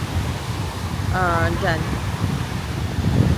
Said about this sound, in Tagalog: Malakas ang hangin tsaka yung waves.